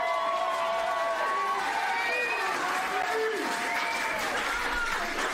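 A small crowd of about 75 fans cheers at a tire wrestling fight, a steady roar of applause and whoops with a voice talking over it.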